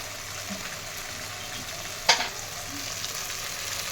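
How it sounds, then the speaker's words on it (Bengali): A spice masala with turmeric and a little jaggery stir-fried in a pan while cooking a curd and pointed gourd dish, giving a constant close sizzle with one sharp scrape or clatter of the spoon midway. "এবার মশলাটা ভালো করে কষিয়ে নেব"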